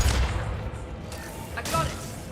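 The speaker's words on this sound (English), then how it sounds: "Taking fire." Gunfire in the Mass Effect 2 video game, Legendary Edition: a dense, steady wash of shots and blasts runs throughout, with sharper bursts about halfway through.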